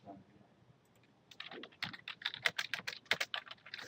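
Keys clatter on a computer keyboard as a WordPress post is typed, starting quietly and building into a steady burst of fast, close taps with no voices.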